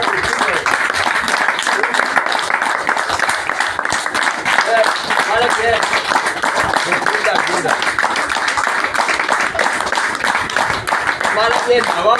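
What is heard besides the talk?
applause for a technical engineer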